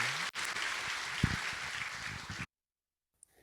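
A church congregation at a Sunday service in Daegu applauds with a dense wash of clapping for about two and a half seconds. It then cuts off abruptly into near silence.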